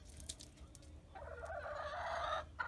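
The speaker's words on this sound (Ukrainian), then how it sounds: "Я їх називаю нагла курка." A Hy-Line hen clucks in a run of short, throaty calls that swell into a longer, louder cackle, close by with no talking.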